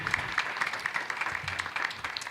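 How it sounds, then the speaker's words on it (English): Audience applause at a 2024 general election candidate forum in Palm Coast, a steady dense clapping from a room of people, moderately loud and continuous throughout with no voices over it. "How about another round of applause for all of the candidates here tonight?"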